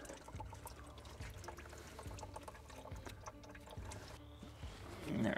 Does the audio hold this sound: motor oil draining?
yes